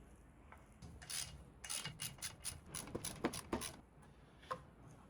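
Shaft of a 1968 boat engine's water pump being turned by hand to spin the impeller, giving faint, close scraping and rubbing sounds in short uneven strokes with small ratchety clicks.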